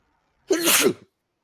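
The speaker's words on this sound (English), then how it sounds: "sorry about that, Bless you." A single sharp sneeze, loud and close, lasting under a second, with quiet before and after.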